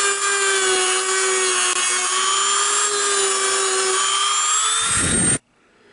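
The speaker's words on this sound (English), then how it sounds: "once you're done with the sanding drum" A sanding drum on a rotary tool smoothing a Remington 870 shotgun part whines loudly and steadily at high pitch for about five seconds, then spins down and stops abruptly.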